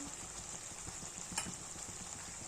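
Masala of red byadgi chili paste, turmeric and chili powder sautés in oil for a prawn curry. It gives a steady, soft sizzle, with faint stirring scrapes and one brief clink.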